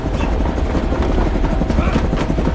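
Military helicopter rotors thump in a steady, loud, dense roar close at hand, filling the whole moment with continuous beating noise.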